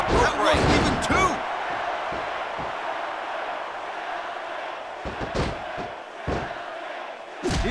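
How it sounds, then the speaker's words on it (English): Crowd roar from the wrestling video game Smackdown vs Raw 2006 right after a pinfall, a sustained broad arena wash with a few sharp impact-like bursts near the start and later, playing under game commentary. "And the crowd has come alive."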